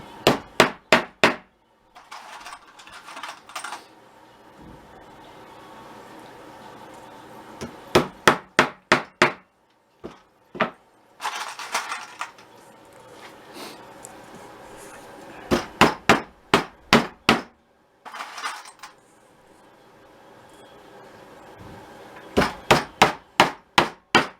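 Quick bursts of sharp hammer taps starting screws in plywood while building weasel boxes, about five or six strikes per burst, repeated in several groups with quiet gaps.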